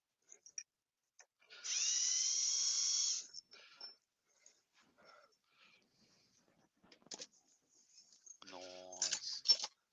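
Power drill run against small motors, a single whining burst lasting about a second and a half, followed later by a shorter rising-then-falling spin-up, with scattered quiet knocks and handling noises between them.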